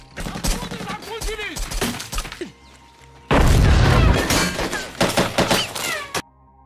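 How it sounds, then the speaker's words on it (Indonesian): Gunfire exchange in an action film about a special forces team fighting an armed group, with loud bursts of shots and booms, a dense, sustained volley in the middle, and voices in between. "Mereka saling berbalas tembakan."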